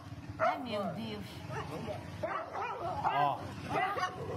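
A dog barks and yips on a Brazilian afternoon TV show, short excited calls mixed with whimpers coming through in bursts under people talking and exclaiming in the studio.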